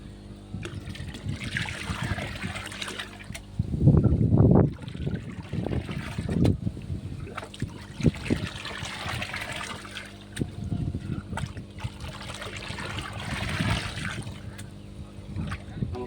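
Water is swirled and mixed by hand in a fish tank for guppy breeding, giving soft irregular sloshing and trickling with a louder splash near the middle, close and quiet.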